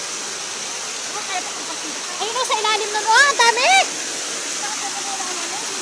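A waterfall roars with strong, constant flow, a broad steady rush heard up close while someone speaks excitedly over it.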